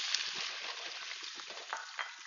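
Deveined, peeled shrimp sizzle in hot oil, a steady hissing crackle with small pops, close and moderately quiet, continuing throughout without any talking.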